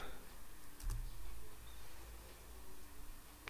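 A single faint Enter keystroke on a computer keyboard, a brief soft click amid quiet room noise, with no talking.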